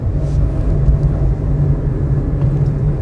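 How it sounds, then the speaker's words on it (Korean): Car engine during a road driving lesson as the accelerator is pressed, a steady low rumble from inside the cabin, fairly loud and even, with no clear rise in pitch and no talking. "엑셀 밟고"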